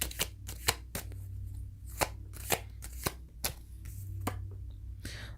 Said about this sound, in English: Let's pull a couple cards on this.